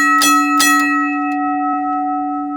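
A 15E mechanical railroad crossing bell strikes twice in quick succession, then a softer third tap, each clang leaving a long, steady ringing tone that slowly fades; close and alone.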